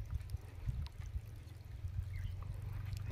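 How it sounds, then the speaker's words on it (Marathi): Water trickles and pours over a small waterfall at an old dam built for storage, a soft, continuous splashing with a low rumble, heard faint and somewhat distant. "छोटासा धबधबा"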